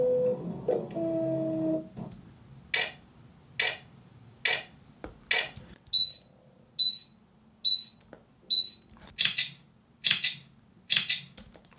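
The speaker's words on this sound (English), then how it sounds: "You can actually hear the focusing motor, then you hear the little beep, and then when the shutter goes." Camera autofocus motor whirring, then a short electronic beep and a shutter click, heard as a series of crisp mechanical ticks and clicks with four repeated high beeps before denser clicking at close range, alone without talk.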